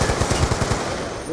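Rapid bursts of automatic gunfire from an online shooter game, loud and close, a quick rattling series of shots that fades into softer game noise.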